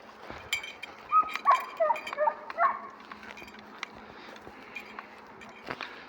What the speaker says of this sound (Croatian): Jer laje dobrih 10 minuta, laje kerče.